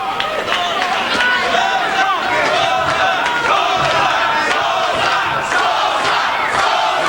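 Boxing arena crowd at a Glen Johnson vs Merqui Sosa fight, loud and continuous crowd roar with rhythmic chanting of a fighter's name and some overlapping voices throughout.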